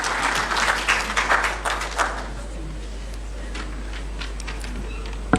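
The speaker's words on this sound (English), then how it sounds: "Shall we welcome her with a clap" An audience applauds to welcome a woman who is a special aide to Ghana's President at a formal state event, with dense clapping loudest in the first couple of seconds and then thinning to scattered claps under a steady hum.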